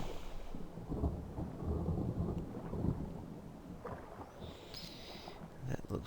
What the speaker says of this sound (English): We've got a storm going on.